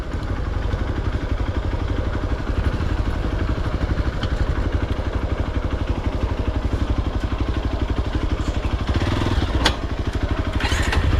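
A motorbike engine runs steadily and close on a mountain trail to Bhange waterfall in Mailung, Rasuwa, a continuous rhythmic putter with a few clattering knocks near the end.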